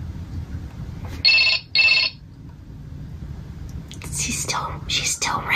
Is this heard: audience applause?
no